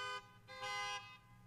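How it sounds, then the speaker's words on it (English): Car horns honk faintly in two short blasts at an outdoor drive-in church gathering on Mother's Day, distant and thin. "honk the horn of your car"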